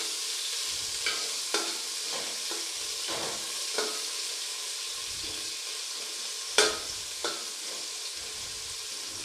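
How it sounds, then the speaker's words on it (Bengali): Tomato and chili paste being stirred in a frying pan, a soft steady sizzle broken by scattered spatula scrapes and taps, one sharper knock standing out near the middle. "টমেটো আর লঙ্কা দিয়ে দেবো, ঠিক আছে? দিয়ে দিলাম। এটাকে একটু পেস্ট দিয়ে একটু নাড়াচাড়া করব।"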